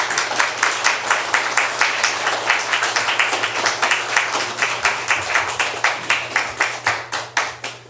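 A church congregation at a Sunday morning revival service claps steadily in rhythmic unison as the pastor comes forward, the beats close and even over a low hum.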